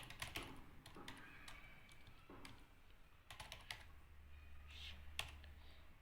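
Python code is typed on a computer keyboard in quick, faint bursts of key clicks with short pauses between them, heard close up in a quiet room.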